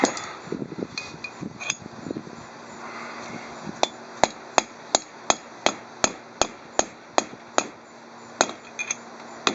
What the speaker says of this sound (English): I need to hammer on that side now